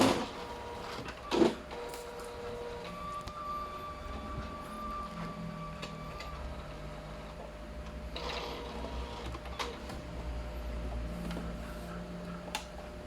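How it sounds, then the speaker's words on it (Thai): An Epson inkjet printer, T60 or L800/L805 type, prints after its cable was replaced, with a steady mechanical whir, soft ticks and a few sharper clunks and slides of the print head, moderately close and without voices. "มาดูว่าหลังจากที่เราเปลี่ยนสายไปแล้วนะครับผมมันจะพิมพ์ออกมาได้ ดีขึ้นหรือเปล่านะครับผม"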